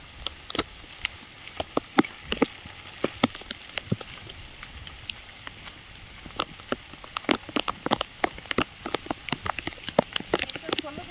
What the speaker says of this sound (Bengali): ভালো বৃষ্টি হচ্ছে আর আকাশে প্রচুর মেঘ